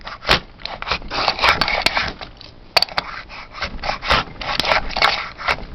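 A wooden grooving plane (bouvet) cuts grooves in wood with repeated rasping, rubbing strokes, close and fairly loud, with irregular clicks between passes and no talk.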